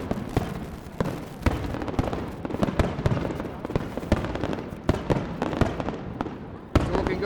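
Fireworks exploding at night during a show building to a finale, a dense, continuous barrage of booms and crackling bursts, some sharp and loud, without a break.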